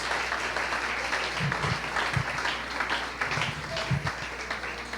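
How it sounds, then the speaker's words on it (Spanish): A church congregation claps steadily in a dense wash of applause, fairly distant and even, with faint voices mixed in. "Démosle un aplauso al Rey de Reyes y Señor de Señores."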